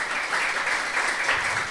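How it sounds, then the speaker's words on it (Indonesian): Church congregation applauding, a dense steady wash of many hands clapping at once, continuous and moderately distant for the whole stretch. "Kalau percaya tepuk tangannya lebih keras lagi"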